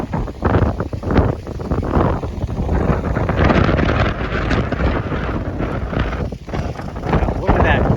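Strong gusts buffet the microphone on the Malecon lakeside promenade in Chapala, Mexico, a loud, uneven roar that rises and falls in bursts throughout.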